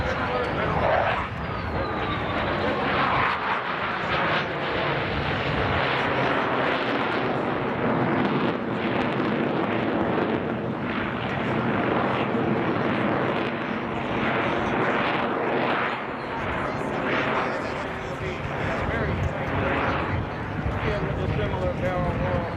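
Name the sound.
twin-engine airplanes accelerating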